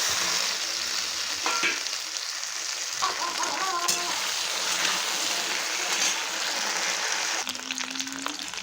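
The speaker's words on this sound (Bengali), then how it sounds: "এখন সেদ্ধ রাখা কচু দিয়ে দেবো।" Boiled taro pieces frying with potatoes in a pan of oil, a steady loud sizzle with occasional clinks and scraping of a utensil stirring throughout.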